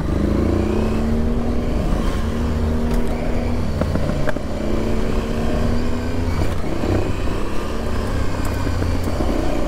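A 2022 Aprilia Tuareg motorcycle ridden off-road, its engine droning loud and steady throughout with rising and falling revs as it climbs and shifts, no voices.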